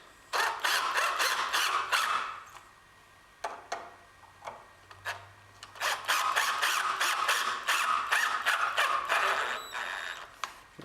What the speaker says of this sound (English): now with the 2 screws that came with the deadbolt, I'm just going to screw the jig in place